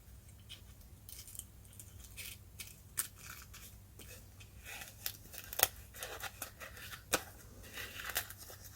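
Scissors snip steadily through paper while cutting out the craft letters X, Y and Z, a close series of crisp, irregular cuts with light paper rustling in between and no talking.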